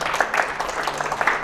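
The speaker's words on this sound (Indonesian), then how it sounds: "Berikan tepuk tangan buat Tuhan teman-teman" A church congregation applauding during a worship service, a brief burst of dense, even clapping filling the room.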